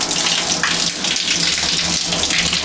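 A newly plumbed shower runs with hot water, giving a steady, loud, close hiss of spray that carries on alone without a break.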